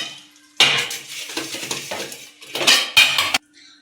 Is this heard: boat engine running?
no